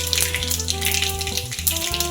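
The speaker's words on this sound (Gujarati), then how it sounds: "તેલ આવી જાય પછી આપણે તેમાં રાઈ ને જીરું નાખશું." Mustard seeds and cumin sizzle in hot oil for a tempering over a low gas flame, a steady crackling hiss with scattered pops, close and continuous, with a faint mechanical hum underneath and no voices.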